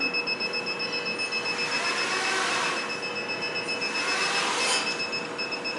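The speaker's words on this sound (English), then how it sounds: "I don't know why it's still beeping though" Steady electronic tones from FPV video gear on an antenna mast setup, two thin continuous high pitches holding level throughout with broader hissy bursts around the middle and end, no talk.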